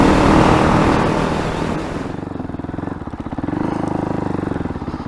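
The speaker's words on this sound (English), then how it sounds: "A nice little Fantic Caballero 500cc single on the back bumpy roads of Suffolk" A Fantic Caballero 500cc single-cylinder motorcycle ridden on bumpy back roads in Suffolk, starting with a loud rush of wind and engine that settles into a distinct, rhythmic single-cylinder thump close by, with no voices.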